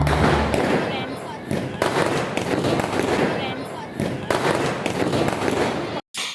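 Diwali firecrackers burst in a rapid string of loud, crackling booms, several close together, while people talk over the noise.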